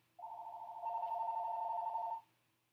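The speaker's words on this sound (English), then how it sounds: "it's like my phone knows when I'm going to start reading to you, and then it starts ringing" A phone rings in one steady, continuous electronic tone lasting about two seconds, clear and fairly close against a quiet background.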